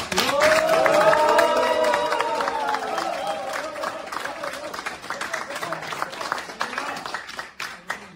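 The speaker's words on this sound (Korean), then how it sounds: "여러분 힘찬 응원의 박수 부탁드립니다." Applause and scattered cheering from a crowd at a Korean National Assembly candidate's declaration event in Gwangju, loudest at the start and thinning over several seconds, with voices mixed in.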